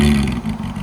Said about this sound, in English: Go ahead and give it gas again